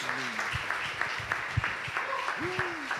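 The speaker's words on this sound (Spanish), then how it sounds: "Dámele fuerte, fuerte ese aplauso al Señor en esta mañana" A church congregation applauds during a Sunday morning service, a steady wash of clapping with a voice speaking over it.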